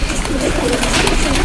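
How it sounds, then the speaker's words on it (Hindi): Racing pigeons kept for tournament flying in Rawalpindi coo loudly and continuously at close range, several birds overlapping in a dense murmuring chorus. "ये सब उड़ाने के लिए छोड़े गए कबूतर हैं जो इस वक्त आपको दिखाए जा रहे हैं"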